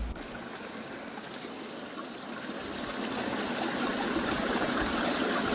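Groundwater stream flowing out of Mokattam mountain, a steady broadband rush and trickle of running water nearby, growing slightly louder midway.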